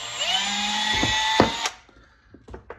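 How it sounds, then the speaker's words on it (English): A power drill boring a small hole for a homemade HF loading coil, a whining motor that speeds up and runs steadily for about a second and a half, then stops, followed by faint handling clicks. "We're going to drill ourselves a little hole."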